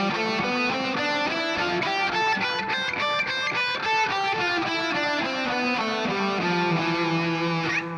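A guitar, likely electric with distortion, plays a continuous melodic phrase in the E Phrygian box, with notes ringing over a low open-E drone, steady and fairly loud throughout with no talking.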